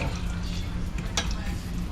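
Food frying in a pan on a hot burner while Jamaican breakfast is cooked, a steady close sizzle running throughout with a few light clinks and scrapes.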